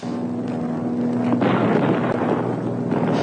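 A deep, rumbling blast from a bomb dropped by an airplane bursts in partway through, following a droning aircraft engine hum, then a rolling roar lingers to the end.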